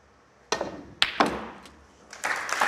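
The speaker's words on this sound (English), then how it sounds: "beautiful pot right into the middle of the pocket, hitting that back of the letter" A snooker ball potted cleanly into the middle of a pocket at a British Open snooker match, heard as a few sharp knocks and thuds in quick succession, fairly close and distinct against a quiet arena.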